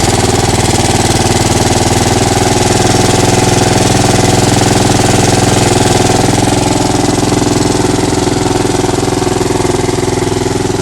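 A Honda lawn mower engine idles steadily after a cold start with its blades disengaged, a loud, close, constant drone with no talking.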